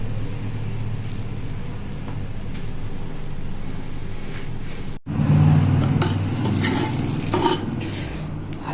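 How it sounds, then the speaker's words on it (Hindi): Carrot halwa cooked in ghee is scooped from a pan into a bowl. A low background hum is followed by a burst of scraping and clinking of a spoon against metal. "हलवे को निकाल लेंगे बाउल में।"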